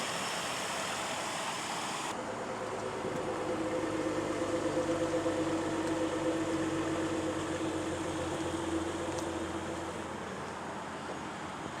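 A 2019 Ford Explorer Sport 4WD in Ruby Red Metallic idles steadily just after starting, a low continuous engine hum with a faint whine, fairly quiet and heard without talk.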